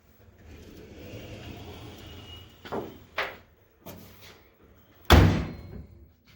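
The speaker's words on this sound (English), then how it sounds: "the trunk latches down and everything kind of like it should" Trunk lid of a 1957 Chevrolet being closed: a few soft knocks and taps, then one sharp, loud latching thump near the end, heard close up against a quiet low rumble.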